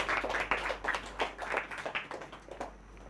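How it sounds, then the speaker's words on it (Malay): A small group claps hands in a loose, uneven burst of sharp slaps, fairly close and steady for a few seconds. "Tepuk tangan untuk diri anda sendiri"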